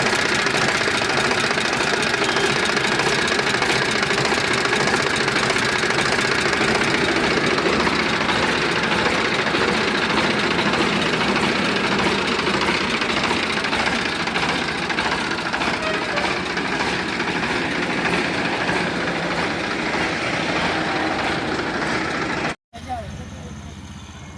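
A tractor engine with power steering runs without throwing oil or smoke, giving a loud, steady, knocking diesel drone for over twenty seconds with voices mixed in, then cuts off abruptly near the end.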